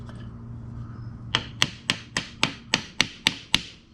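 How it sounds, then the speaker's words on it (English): Nine sharp hammer taps strike oak in a quick, even rhythm, close and crisp, after a brief quiet stretch with a low background hum. "Smack it with the hammer."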